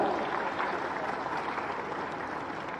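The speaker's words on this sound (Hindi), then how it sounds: "तालियां बजाए जरा" Applause from the audience at a large spiritual gathering, dense and steady clapping at moderate level that carries on evenly without a break.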